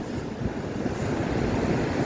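Strong, steady wind buffets a beach after a storm, a loud continuous roar with surf mixed in, close to the microphone with no voices.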